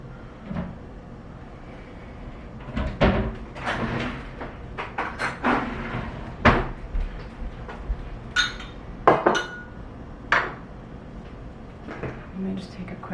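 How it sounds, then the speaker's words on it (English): A little bowl taken out in a home kitchen, with scattered sharp clatters of dishes and crockery and a cupboard knocking, irregular and close, mixed with a person talking. "Now I'm gonna get a little bowl for the insides that we don't want."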